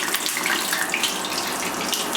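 A potato and mortadella croquette, lowered on a skimmer, fries in hot oil with a continuous bright, crackling sizzle that holds steady and close throughout.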